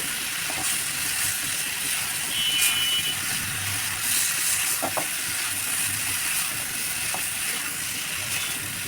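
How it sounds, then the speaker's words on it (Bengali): Pre-fried rui fish sautéing in spice masala, a loud continuous sizzle with hissing steam and occasional light clicks and scrapes of stirring. "মাছ দিয়ে আবারও কিছুক্ষণ কষিয়ে নিচ্ছি"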